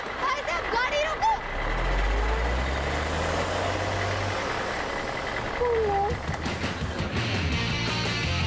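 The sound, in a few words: truck driving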